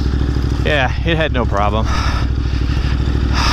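A Ducati Desert X motorcycle rides through tight off-road terrain, its engine thrumming steadily and close throughout, with a rider talking over the continuous drone.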